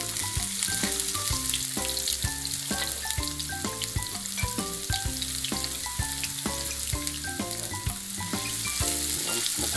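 Garlic and onion sauté in hot oil for adobong scallops, giving a dense, steady sizzle with a continuous crackling texture close to the pan.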